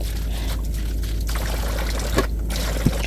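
Tap water pours in a steady, continuous stream while dishes are washed at a kitchen sink, a constant close rushing splash with a couple of small clinks near the end.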